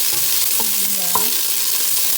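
Onions sizzle loudly in a pan for chicken feet adobo, a dense steady frying hiss up close with a few light scraping touches.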